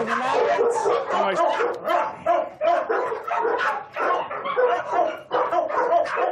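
An energetic rescue dog at a rehoming centre barks and yips repeatedly in quick bursts, close and loud, with people talking over and around the barking throughout.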